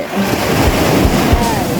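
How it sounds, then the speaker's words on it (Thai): Sea waves roll onto a sandy beach, a loud, continuous wash of surf with wind buffeting the microphone and no one speaking. "ระวังน้ำทะเลม้วนนะ"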